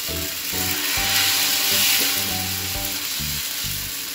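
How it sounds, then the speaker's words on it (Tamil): Adai dosa batter sizzles loudly and continuously in about two spoons of oil on a hot pan, a close, steady frying hiss under irregular metallic scraping and clinking. "தோசை ஊற்றுறோம்."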